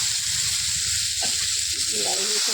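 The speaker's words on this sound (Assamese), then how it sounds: "বিলাহীখিনি ভাজি লওঁ ভালদৰে।" Steady sizzling of tomatoes frying in hot oil with cumin and chili, a constant close hiss with a faint voice briefly audible beneath it.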